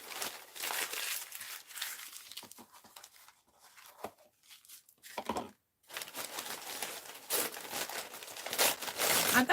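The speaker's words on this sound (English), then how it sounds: "You listen to me crumple up paper." Sheets of paper are crumpled by hand for pot drainage in bursts of crisp crinkling and tearing, with short quiet gaps between handfuls, heard close up without speech.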